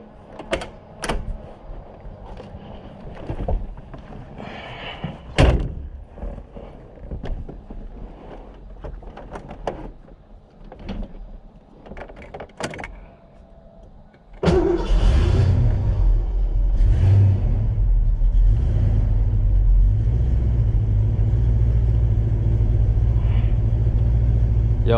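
1990 Fox Body Mustang with mild bolt-on upgrades: door thuds and cabin movement, then the engine starts with a deep loud rumble that holds steady and close through the rest.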